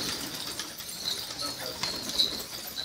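A flock of about thirty domestic pigeons in Homs, Syria, gives scattered wing flaps and soft coos close by, with faint voices in the background.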